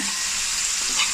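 Idiyappam prawn biriyani sizzles steadily in a pan on low heat with coconut oil, a continuous bright frying hiss with faint stirring scrapes, close and alone without talk.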